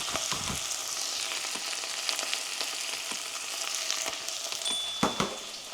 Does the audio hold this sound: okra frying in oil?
yes